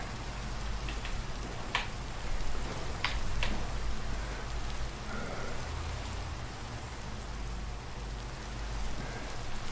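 Steady rain falls in the video game Minecraft near a shoreline, a continuous dense hiss of drops with a low rumbling undertone, with no talking.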